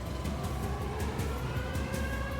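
A tornado warning siren wails across Joplin amid a steady roar of wind and broadband noise, its rising and falling tone fairly loud and continuous throughout.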